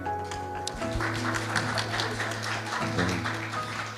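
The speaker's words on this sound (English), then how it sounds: "please give a warm round of applause to the panel" An audience at a technology and development report launch applauds a panel, a moderate, sustained patter of clapping under a steady low hum and tonal background, with no talk.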